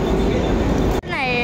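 Train noise at a station platform, a broad steady rumble filling the first second before cutting off abruptly, followed by a voice speaking over quieter background.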